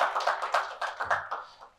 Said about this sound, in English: an applause, of course.